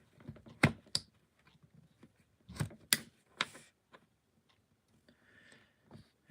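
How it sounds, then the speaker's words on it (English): An X-Acto knife slicing through material, giving a few crisp clicks and short scraping strokes in a quiet room, with sparse taps in between. "We're gonna use the X-Acto knife to make a little cleaner cut."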